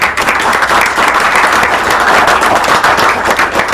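An audience claps for the students at a book launch on Chicano rap in Monterrey, a dense, steady round of applause filling the room from start to finish with no voices over it.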